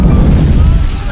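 A single loud, deep boom from a Soviet tank's cannon firing on a German tank in a war film, heavy and low with a rumbling tail, with a voice speaking over it.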